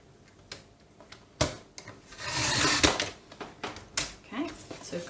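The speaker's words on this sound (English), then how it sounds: "So I will cut that first because it's a lot easier" Scissors or a trimmer cutting cardstock while making a pocket for a pocket-size traveller's notebook, a brief close rasping cut building to a sustained scrape, with a few sharp taps and rustles around it and no talk.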